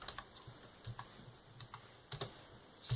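Light typing on a computer keyboard at a desk during assembly-code work on an emulator, a few sparse keystrokes in short bursts, close but quiet, with no talking.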